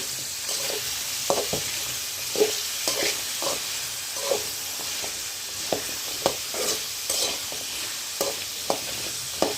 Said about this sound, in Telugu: మనం ఒక ఫైవ్ మినిట్స్కి ఒకసారి తిప్పుకుంటూ ఉండాలి లేదంటే అడుగంటది